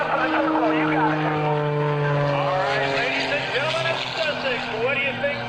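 Sean Tucker's Oracle Challenger aerobatic airplane flies at an airshow, giving a strong, droning propeller-engine tone that bends and shifts in pitch as it maneuvers. Wind and crowd noise sit beneath the steady roar.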